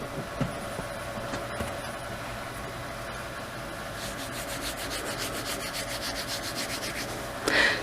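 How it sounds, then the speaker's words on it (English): Hair rubbed right against a microphone, a close, soft scratchy rustle over steady background hiss, growing into rhythmic brushing strokes midway and a louder scrape at the end. "the next sound you hear will be my hair"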